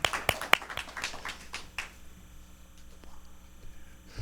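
A sparse round of applause for a band, with a few sharp, close claps at first that quickly thin out and fade into quiet.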